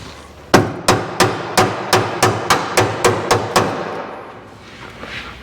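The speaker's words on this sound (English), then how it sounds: "This one might need a real hammer." A hammer strikes metal while a new motor is fitted into a 1956 Chevy truck, about a dozen loud, evenly spaced close blows in a steady rhythm before stopping.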